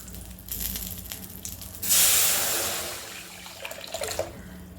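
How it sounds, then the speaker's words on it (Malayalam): Rasam mixture with curry leaves poured into a hot pan, giving a sudden loud sizzling hiss that peaks and then fades into softer bubbling crackles. "ഈ രസക്കൂട്ടില്ലേ അത് ഇതിലേക്ക് ഒഴിച്ചാൽ മതി"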